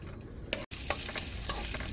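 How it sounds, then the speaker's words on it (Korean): Green onions fry in hot oil to make scallion oil for a ramen-based yukgaejang at a camping spot, giving a steady close sizzle with a brief gap and small stirring scrapes. "파기름 낸다고 생각하면 됩니다."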